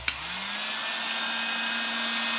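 Heat gun blowing hot air to shrink heat shrink tubing on fishing tackle: a click, then a steady, loud whooshing fan roar with a constant motor hum that continues without a break.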